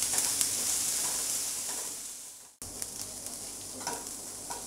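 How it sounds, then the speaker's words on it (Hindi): Chopped onions fry in hot oil in a pan with a steady, close sizzle and hiss, cut by a brief near-silent break halfway through. Scattered soft clicks of stirring sound over the sizzle, and no one speaks. "प्याज को लाइट ब्राउन होने तक हम इसे फ्राई कर लेंगे।"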